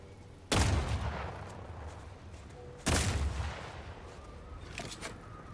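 Two heavy, booming blasts from shooting mines in The Outer Worlds 2, about two seconds apart, each with a long rumbling tail, followed by fainter distant pops.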